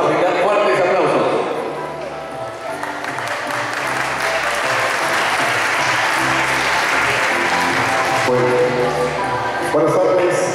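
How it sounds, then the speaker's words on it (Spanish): A crowd at a flower-of-maize queen election festival in San Juan Ocotlán bursts into loud, sustained applause that fills the space for about ten seconds, with a voice over a loudspeaker heard through it. "a quien en ese momento le vamos a brindar fuertes aplausos"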